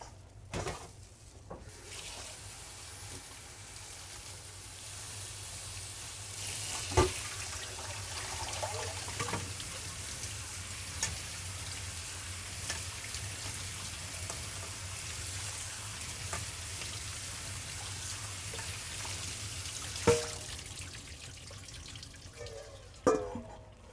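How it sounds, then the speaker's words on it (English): Shredded cabbage rinsed under a running kitchen tap, a steady close rush of water splashing through the leaves for a long stretch, with a few sharp knocks and clatters of handling mixed in. "Now we're ready to give it a rinse."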